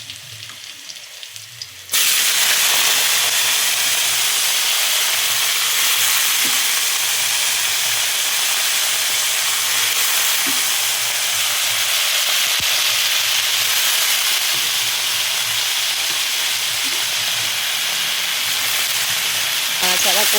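Fried chilies and other ingredients hit a hot pan and break into a loud, continuous sizzle and hiss right after a brief quieter moment, with occasional stirring scrapes.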